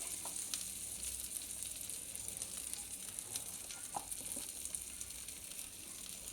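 Vermicelli frying in a pan with turmeric, coriander powder, chilli and salt, giving a steady, moderately quiet sizzle with occasional faint stirring scrapes and no talk.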